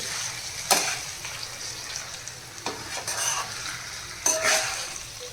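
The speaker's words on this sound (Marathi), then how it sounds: "आता पण हे छान या मसाल्यामध्ये फ्राय करून घेऊया" Chicken pieces fry in a masala in a pan for a dhaba-style chicken masala, with a steady sizzle and a few louder scraping stirs, heard close and with no talk.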